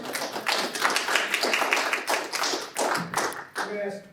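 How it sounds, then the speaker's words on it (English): Audience clapping at a presentation, a short burst of uneven hand claps from a modest group, close and lively, fading briefly before a final cluster of claps. "I'm going to say some applause."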